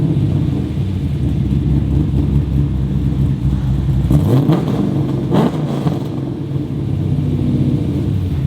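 Subaru EZ30R flat-six engine swapped into a Porsche 911, running on a dyno: a loud steady drone holds throughout, with a rising rev sweep near the middle, no talk.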